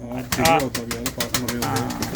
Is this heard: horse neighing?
no